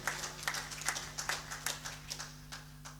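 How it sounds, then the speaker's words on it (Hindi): Scattered, uneven hand claps from an audience at a Hindi kavi sammelan poetry gathering, soft and somewhat distant, thinning out toward the end over a steady low hum. "तालियां तालियां एक बार कर्नल साहब की इस बात।"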